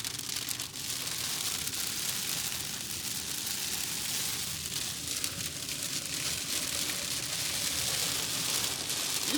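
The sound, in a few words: hail falling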